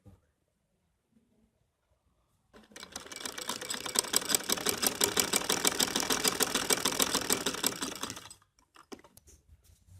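A sewing machine runs in a fast, steady burst of rapid stitching for about six seconds as the hem of a pleated frock is sewn around, starting and stopping abruptly with near silence on either side.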